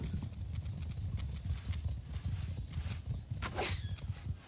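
Cavalry horse archers move across a battlefield in Mount & Blade II: Bannerlord, with a steady, dense clatter of hooves and an occasional whinny. The sound is fairly faint and continuous, with no talk over it.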